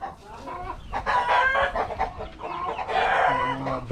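Rhode Island Red chickens in a pen cluck steadily at close range, with a rooster's crow-like calls rising among the dense, continuous flock chatter.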